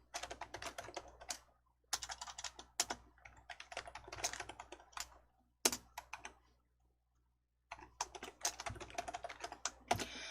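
Typing on a computer keyboard, with close, quiet bursts of rapid key clicks broken by brief pauses and a few sharper single keystrokes such as Enter, with no voices.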